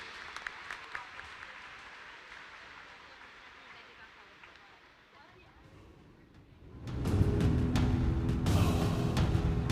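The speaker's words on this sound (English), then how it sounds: "Ladies and gentlemen, clap your hands." Spectators at a U23 European swimming championships meet, scattered claps at first under an echoing hall, then a loud, dense burst of applause for the winner that swells and carries on to the end.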